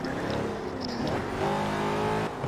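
V8 car engine in the Forza racing game revving steadily, its tone climbing midway through, loud and continuous with no talking.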